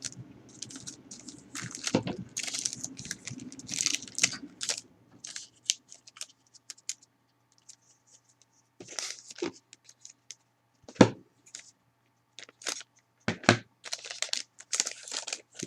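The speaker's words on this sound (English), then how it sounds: "So, I've got some scissors handy." Scissors cut open a cardboard box of O-Pee-Chee hockey cards with close crinkly snips and rustling that come in bursts separated by quiet pauses.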